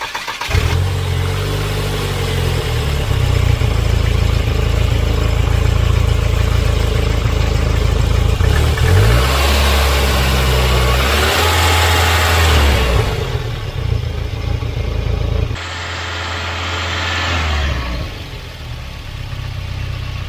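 A Volvo 940 Turbo engine runs loud and close at a slightly high idle, a dense continuous rumble whose pitch shifts a few times, with a brief change in tone near the end and no talking.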